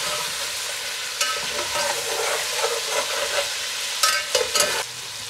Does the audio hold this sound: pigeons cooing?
no